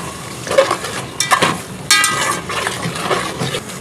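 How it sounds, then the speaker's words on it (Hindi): Tomatoes and slit green chillies sauté in a pan, with a loud sizzle, bursts of spatula stirring and scraping, and light utensil clinks throughout. "टमाटर को अच्छी तरह भून लेंगे, टमाटर गल जाए।"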